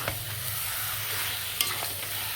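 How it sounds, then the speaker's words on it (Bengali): Chicken leg pieces fry in a pan for a homemade chicken curry, making a continuous close sizzle with a few faint stirring clicks. "এগুলোকে মাংসগুলোকে দিয়ে আমি ভালো করে কষিয়ে নেব"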